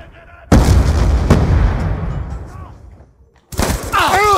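A grenade blast in Call of Duty Black Ops 2 multiplayer on the Overflow map: a loud sudden boom that rumbles and decays over a few seconds, followed by another burst of game noise.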